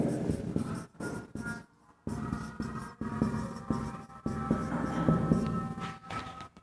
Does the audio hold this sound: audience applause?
no